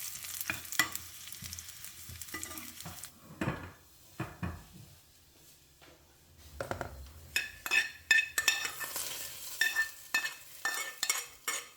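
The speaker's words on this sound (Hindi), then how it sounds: "मैंने भी ऑलिव ऑयल थोड़ा सा लिया, इसमें लहसुन बारीक बारीक काट के ना तो चूल्हे पे चढ़ा लिया" Finely chopped garlic frying in a little olive oil on the stove, a soft sizzle broken by bursts of stirring and clinking of a utensil against the pan, close with quiet pauses.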